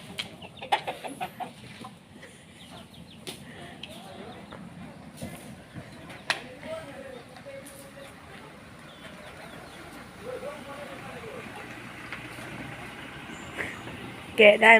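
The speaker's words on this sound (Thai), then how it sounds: "นี่นะคะไก่มาทำไมฮะ" Chickens cluck at irregular intervals on a farm, close by and moderately loud, with voices talking intermittently over the birds.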